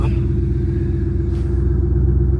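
Ford Mustang GT V8 with a Valvetronic exhaust, valves open, rumbling steadily with a deep, even low-end drone and no talk over it.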